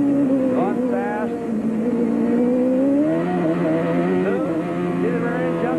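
A race car at the Miami 1995 race roaring down a straightaway, its engine pitch climbing and shifting as it speeds past, loud and continuous, with faint voices underneath.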